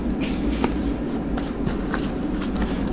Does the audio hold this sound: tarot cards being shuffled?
yes